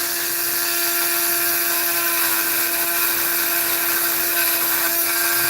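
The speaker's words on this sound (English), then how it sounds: "all this whole surface I'm going to go over with the Dremel again and polish it out" A Dremel rotary tool grinds and polishes a rock such as opal or turquoise, giving a loud, steady, high-pitched whine that runs unbroken from start to finish.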